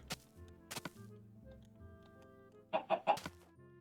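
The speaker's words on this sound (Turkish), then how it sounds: "Tavuk da var." A chicken clucks in Minecraft on the Xbox 360, with a few sharp clicks early on, then a quick run of three loud clucks near the end over a quiet background hum.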